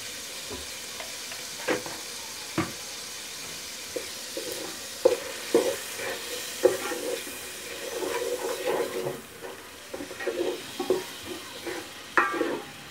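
Keema sizzling and frying in a pan with salt and turmeric, stirred steadily with repeated scraping clicks of a spoon against the pot, close and moderately loud with no talk.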